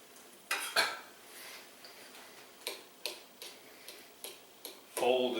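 Two cans of minced clams dumped into a bowl for clam dip: a few sharp clinks and scrapes of metal against the bowl, spaced irregularly, close and fairly quiet.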